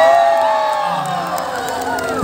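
A crowd at a celebrity night comedy show in Tagoloan cheers and shouts loudly, with voices whooping in a continuous roar that stays strong for a couple of seconds; clapping is not distinct.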